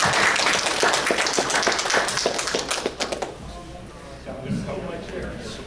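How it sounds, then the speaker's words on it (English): An audience at a furry convention applauds two fursuit volunteers, a dense burst of clapping for about three seconds that fades out as talk resumes. "let's give our two fursuit volunteers a round of applause"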